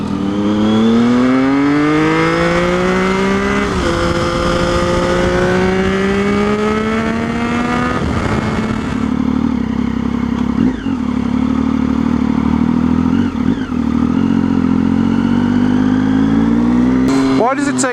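A motorcycle engine revs and rises in pitch as it accelerates through gears, loud and close, then settles into a steady rumbling drone with clattering bits, with voices talking over parts of it.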